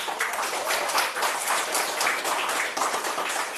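Classroom applause from students in an Islamic education class, a brisk, dense patter of many hands clapping together, fairly close and steady for a few seconds with no voices over it.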